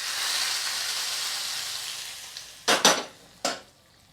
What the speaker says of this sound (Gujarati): એની ઉપર આપણે આ તેલ ગરમ કર્યું છે ને એક ચમચી એ માથે આવશે